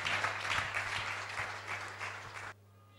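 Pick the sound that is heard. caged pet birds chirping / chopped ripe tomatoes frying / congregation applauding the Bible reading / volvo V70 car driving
congregation applauding the Bible reading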